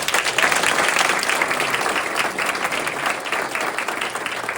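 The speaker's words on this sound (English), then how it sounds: "One more big round of applause," Sustained, full applause from a banquet audience for a girls' tennis state championship team, dense steady clapping with a few louder claps, loud and continuous without talk.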